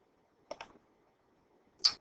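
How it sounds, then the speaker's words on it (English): Small wet mouth clicks from a person close to the microphone: a quick pair of clicks, then a single sharper click after a pause, in an otherwise quiet room. "sorry, I keep clicking my mouth"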